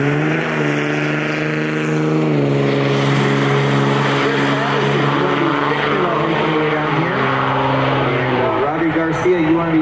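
A car running hard on a dyno at the Ultimate Callout Challenge drag event, a loud sustained engine drone with strong harmonics that sweep as revs change, continuous throughout with crowd noise and a voice underneath.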